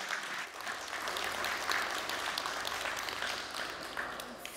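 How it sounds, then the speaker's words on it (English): Sustained audience applause greets a conference speaker at an Umbraco developer event, steady and dense throughout, with a faint voice briefly mixed in. "So give him a big round of applause."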